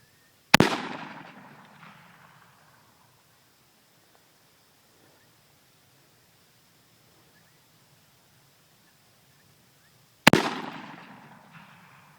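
Two loud, sharp rifle shots from a 17 Stinger fired at a coyote at long range, about ten seconds apart, each with a decaying echo rolling out over quiet open country.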